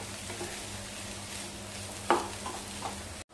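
Potato filling mixed with coriander is stirred in a pan, a soft steady sizzle with a couple of sharper scraping clicks from the spoon, quiet and close, with no talk.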